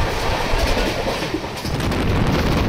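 A Sampark Kranti Express passenger train runs at about 130 km/h near Tughlakabad, heard from inside as a loud, constant roar of wheels and rails with faint clickety-clack beneath the rush.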